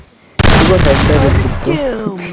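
A gunshot blast in the mobile shooter Garena Free Fire during a one-versus-one match bursts in loud and sudden, followed by a dense sustained rumble with game effects, while a voice talks over it.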